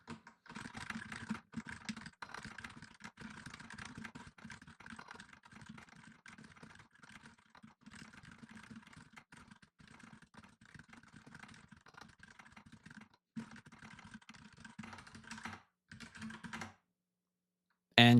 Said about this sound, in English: You can see how fast I was typing and also how accurate I was.